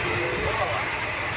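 A passenger train running out of Malda gives a brief, steady rumble with a broad hiss of carriage noise, heard from close by.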